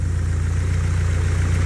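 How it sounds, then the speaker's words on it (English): A car engine fitted with a Chinese-made distributor idles close and loud, with a steady low throb and an even pulsing rhythm throughout. "The engine, when it's idling, it will literally cut out"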